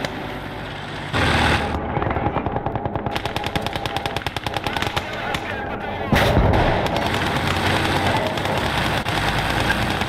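Heavy machine-gun and mortar fire in a Gates of Hell Eastern Front battle, with rapid rattling bursts and loud booming impacts that build in a sustained, dense barrage.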